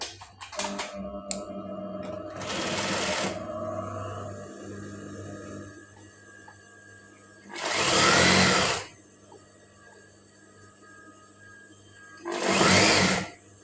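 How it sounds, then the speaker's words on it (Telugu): Sewing machine stitching a folded fabric sleeve for a ruffle sleeve design, heard as loud bursts of mechanical whirring, one long run and two short separate runs with quiet pauses between. "ఇలా ఫోల్డ్ చేసి నేను స్టిచ్ వేస్తున్నాను."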